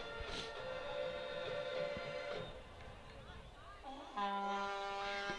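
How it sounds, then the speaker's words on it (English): A loud, sustained air horn blares over a noisy crowd at a high school football game, with a second long horn blast near the end; a voice talks underneath. "They got these air horns out here."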